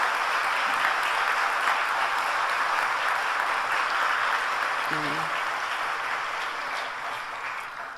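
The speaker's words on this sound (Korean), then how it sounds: "따뜻한 박수로 환영해 주시기 바랍니다" A church congregation gives warm applause welcoming visitors at a Sunday worship service, a broad wash of clapping that fades slightly toward the end, with brief speech or a tonal sound near the middle.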